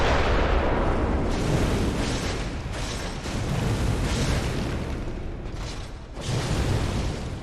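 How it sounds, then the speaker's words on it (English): Explosion in the video game Bloodborne, a dense, roaring blast that rumbles on continuously for several seconds with surging waves of noise and no talking over it. "Oh, I forgot that's an explosion."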